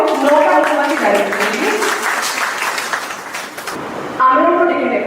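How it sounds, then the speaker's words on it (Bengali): Audience at a reality show stage event in Purulia breaks into loud, sustained clapping that fades, then resumes strongly, with voices mixed in. "9টা জোরে একটা হাততালি হোক"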